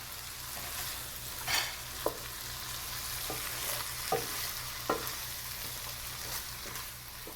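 Ground beef and chopped tomatoes cook on medium heat while a flat-tipped wooden spoon stirs them, a soft continuous sizzle broken by several distinct scraping knocks of the spoon against the pan, close by, with no talking.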